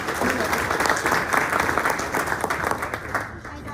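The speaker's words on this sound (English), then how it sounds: "Let's give her a round of applause." Audience applause at a community breakfast event, a dense burst of clapping from a room of people that holds steady for several seconds before tapering off at the end, with some voices under it.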